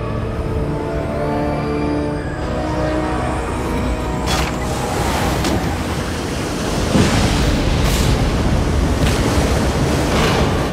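Heavy storm surf crashes against a constant roar of strong wind in a scene from The Perfect Storm, with loud, continuous churning waves and a few sharper bursts of spray and gusts.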